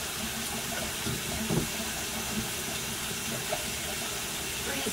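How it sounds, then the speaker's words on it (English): Water running steadily out of a bathtub in a steamy bathroom, a continuous close hiss and gurgle with a few brief splashy bumps, no talk over it. "I'm getting the water out, buddy. The water's coming out."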